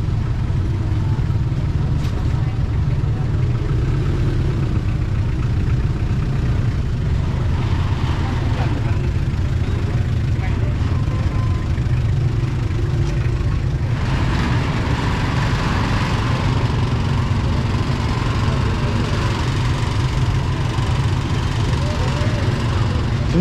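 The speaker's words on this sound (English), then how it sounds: "they're all coming in with motorbikes" Many motorbikes crowd in and idle at a busy vaccination site in Luang Prabang, Laos, a loud, constant low engine drone under nearby voices, with the texture shifting as more bikes arrive partway through.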